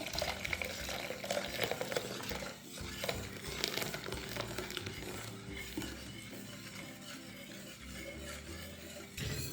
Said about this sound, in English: You put it on medium flame and you keep stirring